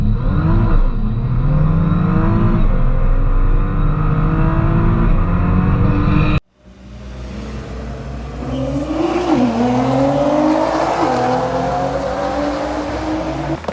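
A 2010 Nissan GT-R R35 drives and revs hard, its engine note rising and falling through steady, loud acceleration, with a sudden cut midway before the revving climbs again, sweeping up and down.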